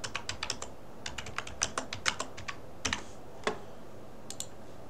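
Keys tapped on a computer keyboard while entering details on a housing-queue website, a close series of crisp clicks in uneven bursts with short pauses, fairly quiet over a low background hiss and no talking.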